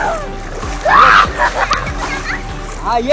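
Children splash in water while an adult teaches them to swim, with repeated close splashes and sloshing under kids' voices and chatter.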